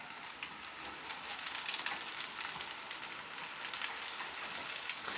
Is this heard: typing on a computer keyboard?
no